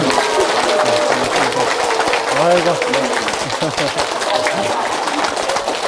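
Audience applause for a flower bouquet presentation at a Korean Buddhist seon-meditation humanities lecture, a dense steady patter lasting throughout under a nearby voice that talks and exclaims.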